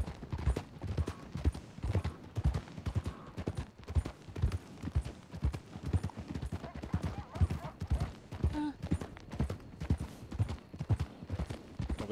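Horse hooves clip-clop in a steady rhythm as a horse is ridden in a western video game, close and continuous throughout, with faint background sounds.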